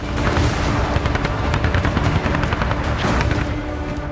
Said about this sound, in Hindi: वॉर जोन का जर्रा जर्रा दिन रात बारूदी धमाकों से कांप रहा है।